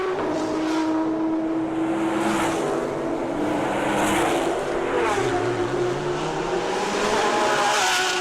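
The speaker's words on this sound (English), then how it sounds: "So listen to the V8s of those Supras." Toyota Supra race cars with V8 engines on a street circuit at a grand prix, their engines droning and revving as they pass at moderate distance, pitch sliding up and down over a steady crowd-like background.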